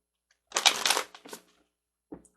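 A deck of angel cards is shuffled in one brisk burst of papery riffling lasting about a second, followed moments later by a faint tap.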